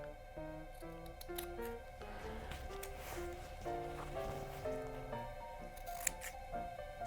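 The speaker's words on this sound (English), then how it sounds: "You're going to trim off the corners." Scissors trim the fabric corners of a sewn apron, a series of close, crisp snips with light rustling of cloth against a faint musical background.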